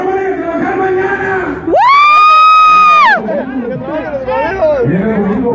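A party crowd at a late-night event shouts and cheers in one loud, sustained collective yell that breaks out between stretches of an emcee's amplified voice and crowd chatter.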